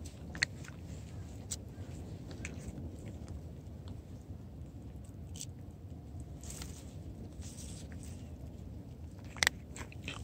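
Stray cat living on a mountain biting and tearing at something outdoors, with faint, close crunching and gnawing under steady wind rumble and a few sharp clicks.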